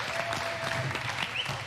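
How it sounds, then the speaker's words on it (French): Studio audience applauding contestants on a French MasterChef cooking competition show, a steady wash of clapping held at even loudness throughout with no voices over it. "Vous pouvez les applaudir."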